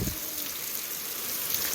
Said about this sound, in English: it took a couple minutes, 2-3 minutes of this kind of rain to actually break through the leaves